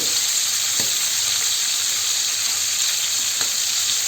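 Lamb and beef liver skewers frying in oil on a stovetop give a steady close sizzle, with a couple of sharp pops as oil spatters.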